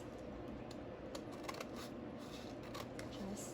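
Scissors snip a paper bag along its crease, a quick run of crisp, rustling cuts close by, soft and papery with small irregular clicks.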